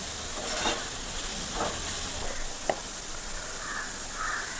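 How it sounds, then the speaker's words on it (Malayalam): A finely chopped small onion fries in a pan with a continuous close hissing sizzle, with a few soft stirring scrapes and one sharp tap partway through. "ഒരു ചെറിയ സവാള ചെറുതായിട്ട് കുനുകുനാ അരിഞ്ഞ് ഇട്ട് കൊടുക്കണം. ഓക്കെ, ഒന്ന് ഫ്രൈ ആവട്ടെ"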